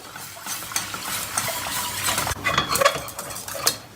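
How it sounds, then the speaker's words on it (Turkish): Milk being stirred into béchamel sauce in a pot, a spoon scraping and clinking steadily against the metal with soft liquid swishing, close and continuous. "Karıştırmaya başladık."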